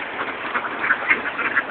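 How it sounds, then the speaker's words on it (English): Ducks quacking at a pond while being fed, a busy flock with several short, fairly close calls overlapping steady outdoor background noise. "Now you feed the ducks."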